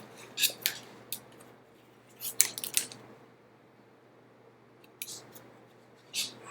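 Scissors snip through a leather shopper bag pattern in short bursts of crisp cuts, a few quick clusters separated by quiet pauses, close up.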